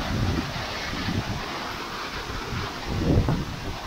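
Breeze buffeting the microphone beside the Véu de Noiva waterfall in Deodoro, Venâncio Aires, a steady rushing roar with a few gusts, loudest near the start and again toward the end, with no talking.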